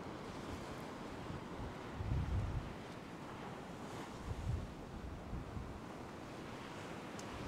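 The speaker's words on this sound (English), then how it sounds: "the waves are breaking fairly close to shore" Ocean waves break close to a beach shore in a steady, loud roar. Heavier surges come every few seconds, with wind buffeting the microphone, and no voices are heard.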